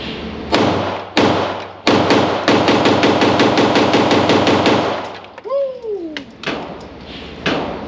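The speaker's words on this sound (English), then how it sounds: "We gotta go again. I'm already shooting fast." Staccato XC pistol fired in a fast, rapid string of more than a dozen loud shots, followed by a pause, a brief rising vocal sound, and a few more scattered shots.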